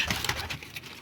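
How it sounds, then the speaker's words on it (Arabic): A pair of domestic pigeons coo softly and close by in a brief, low, throaty murmur. "يعني ده جوز حمام بلدي"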